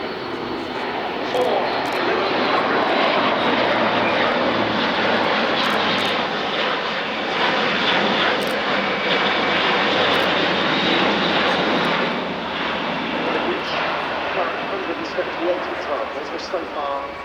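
A Luftwaffe Airbus A400M Atlas military transport roars through a tactical flying display at an airshow, its loud, steady engine drone filling the whole clip with only slight swells.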